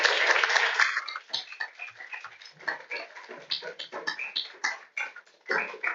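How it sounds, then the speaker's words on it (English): An audience at a Layton City Council meeting applauds an honoree, a dense burst of clapping for about a second that thins into scattered, uneven claps with some voices. "And you guys can clap for him."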